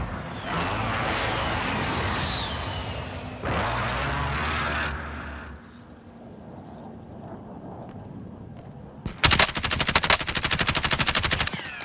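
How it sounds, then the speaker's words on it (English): Hostile gunfire in the Call of Duty: Modern Warfare video game, dense bursts with a sustained roar early on, then a lull before a sharp, loud rapid-fire volley near the end. "Receiving hostile fire."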